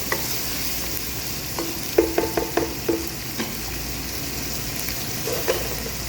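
Okra and onion sauté lightly in a pan for bhindi pyaz: an even sizzle with a quick run of spatula taps and scrapes near the middle, close and clear, with no voices.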